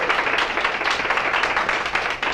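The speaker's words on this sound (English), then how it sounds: "I really want to give a round of applause to my mom" Applause from an audience in a room at a wellness center event, a steady dense wash of clapping that runs evenly for a couple of seconds with no voices over it.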